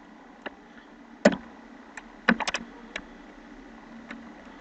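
Scattered keystrokes tap on a computer keyboard while code is typed, sparse clicks with a brief quick cluster near the middle, quiet and close against a faint room hum.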